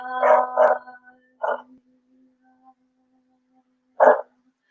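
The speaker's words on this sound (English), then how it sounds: "And the dogs are singing as well." Dogs barking nearby in short bursts: two quick barks, a third shortly after, then a pause before one more bark, over a faint steady hum.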